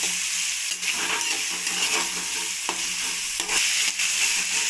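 Capsicum, carrots and peas fry steadily in a pan, a continuous close sizzle broken by the scrape and clatter of a spoon stirring through the vegetables, with no voices over it.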